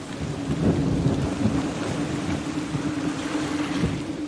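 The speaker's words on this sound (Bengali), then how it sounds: "ভাই কেবল ঝড় শুরু হয়েছে, হাল যে ধরে রাখা যাচ্ছে না।" A thunderstorm plays as a story sound effect: rain pours steadily under low, rolling rumbles of thunder, loud and continuous, with a heavier swell near the start and no voices.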